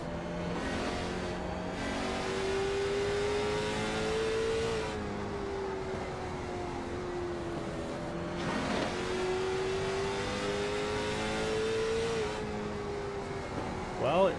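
Onboard engine of the number 27 oval race car, a continuous loud drone that rises and falls in pitch through repeated laps, with brief background commentary mixed underneath.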